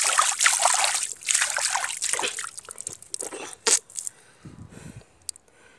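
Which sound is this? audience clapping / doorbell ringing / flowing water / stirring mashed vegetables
flowing water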